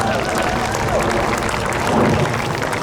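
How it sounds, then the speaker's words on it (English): A crowd at an outdoor ceasefire rally in Seattle's Cal Anderson Park claps in dense, sustained applause, loud and close, with a few faint cheers mixed in. "give yourselves a round of applause"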